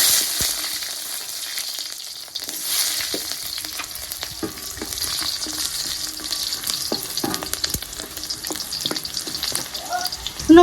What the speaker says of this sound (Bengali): ভেজে নিব কয়েক কোয়া রসুন।